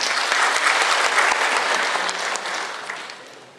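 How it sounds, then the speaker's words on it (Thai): Sustained applause from a seated audience at a Thai agricultural seminar welcoming a guest expert, dense and fairly loud, holding steady before tapering slightly toward the end. "ปรบมือต้อนรับท่านเดียวกันเลยครับ"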